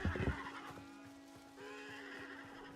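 A horse in the Hytale video game whinnies near the start with a short burst, then a steady tonal hum runs beneath, with a second, thinner rise of sound later on.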